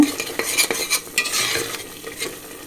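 A spoon scrapes and clatters through mutton and salt in a pot, in quick, uneven strokes over a soft sizzle, close and fairly loud.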